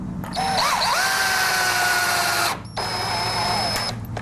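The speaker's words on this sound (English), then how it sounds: "We go ahead and we pilot a drill hole out" A power drill runs steadily while boring a pilot hole into window trim, a loud whine lasting about two seconds, pausing briefly, then running again close by with no talk over it.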